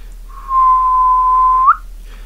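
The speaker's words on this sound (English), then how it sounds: "whistled one more time." A man whistles one long, steady, clear note that rises sharply at the end before cutting off, alone and close against a quiet background.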